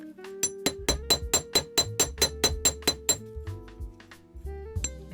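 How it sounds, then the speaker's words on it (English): A regular hammer strikes copper wire into ear hook shape in a steady run of about a dozen bright, ringing metallic taps. Softer, sparser hits follow, with no talking. "Bring in your regular hammer."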